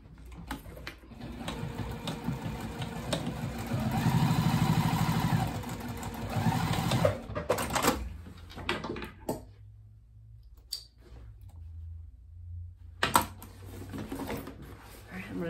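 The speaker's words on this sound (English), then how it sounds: "Now I'm just gonna stitch this pocket, this birthing hole closed." Sewing machine stitching closed the turning hole of a tote bag pocket, a steady whirring run that swells then stops, followed by quieter clicks and handling noises, close up.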